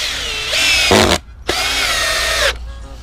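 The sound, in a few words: power drill driving screws into wood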